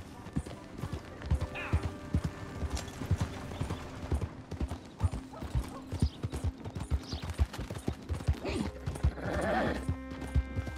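A horse trots in Red Dead Redemption 2, its hooves clip-clopping in a steady rhythm with a faint whinny and outdoor game ambience, and a voice speaks briefly.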